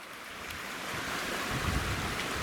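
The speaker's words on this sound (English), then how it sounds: "got a little bit of a creek crossing right here" Creek water rushing over a trail crossing on a backpacking route in the Dolly Sods, a steady broadband wash of flowing water that swells slightly louder and closer partway through, with no talking.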